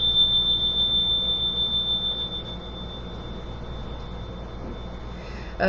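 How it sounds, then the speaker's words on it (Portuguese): A single high metallic ringing tone from a metal pin bell sustains for a couple of seconds and slowly fades into quiet room noise, with no talking. "Quem tiver sino pin, olha que som delicioso."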